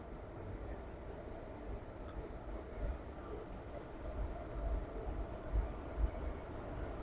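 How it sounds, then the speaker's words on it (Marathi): Koyna Express, hauled by a WAP-4 electric locomotive, departs Vishrambag railway station with a low, steady rolling rumble that swells slightly as it moves, heard alone at moderate distance. "कोयना एक्सप्रेसचं डिपार्चर विसल झालेलं आहे आणि गाडी आता विश्रामबाग रेल्वे स्टेशन वरून निघत आहे"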